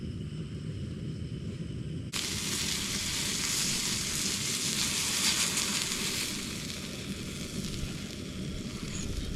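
Meat hits a small pan and starts frying, with a sudden onset of steady crackling sizzle that continues close and even.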